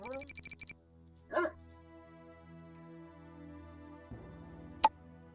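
Attack dogs in the video game Command & Conquer Red Alert give a short burst of barks, brief and clear over game tones and clicks.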